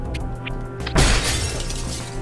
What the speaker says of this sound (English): Glass breaking.